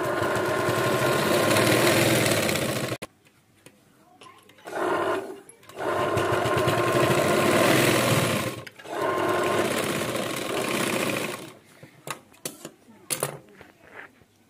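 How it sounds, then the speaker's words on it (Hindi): A sewing machine runs close and loud, stitching the side seam of a bridal sharara in several long bursts with short pauses and a few quick stop-start runs near the end. "देखिए इस तरह हमने ये एक सिलाई कर ली है, यानी कि ये पैक हो चुका है।"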